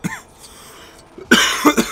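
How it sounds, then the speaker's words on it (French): One person coughs several times at close range, a short cluster of sharp, loud bursts following a brief vocal sound and a quiet pause. "Forcément faut que je me mette à tousser dès le début."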